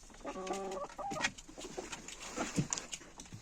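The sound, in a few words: chickens clucking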